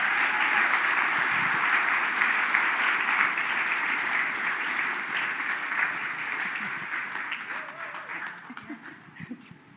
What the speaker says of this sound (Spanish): Démosle un aplauso a nuestro Dios por la vida de Lady.